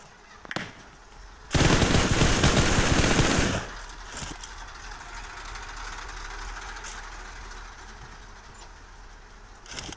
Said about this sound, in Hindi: सामने से फायरिंग भी हो रही है।